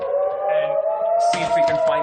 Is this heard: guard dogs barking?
no